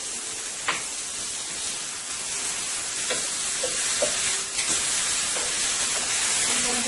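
A thick steak sizzles steadily in a hot pan with a continuous hiss and a few sharp crackles and pops throughout.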